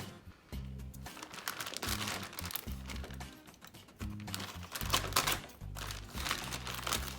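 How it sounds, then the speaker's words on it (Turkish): A shipping package is opened up close, with crinkling, crumpling plastic and cardboard handling in irregular bursts and rustles, and no talking. "Hadi kargomuzu açalım."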